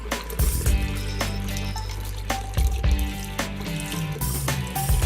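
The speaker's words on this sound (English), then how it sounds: "And I'm gonna add my beef broth." Beef broth is poured into a pot of tomato puree, a steady close liquid splashing and gurgling that lasts throughout.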